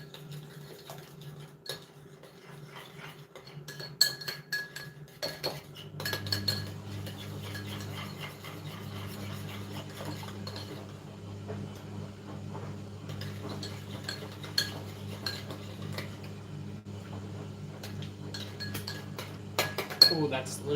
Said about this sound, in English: Some pepper, Worcestershire, and then give it a good stir.